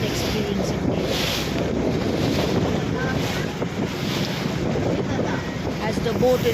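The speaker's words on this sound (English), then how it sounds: "As the boat is now heading back towards the port where it had set sail." A boat on the sea off Rameswaram heads back to port, with a constant loud roar of wind buffeting the microphone over the churning water and engine noise, steady throughout.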